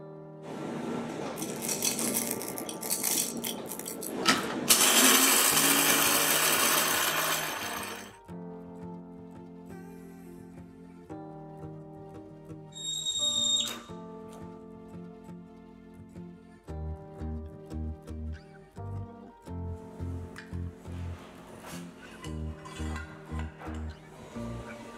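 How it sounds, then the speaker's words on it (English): A morning cup of coffee being made, with clinks of a cup and spoon, a loud burst of grinding or hissing, then rhythmic stirring and tapping against ceramic, close by with no talk. "I then make and drink a big cup of coffee"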